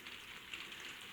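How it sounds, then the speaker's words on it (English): Rain patters on a conservatory roof in a steady, dense hiss of small drops, quiet but constant, with no speech over it. "you can probably hear the rain pattering on the conservatory roof"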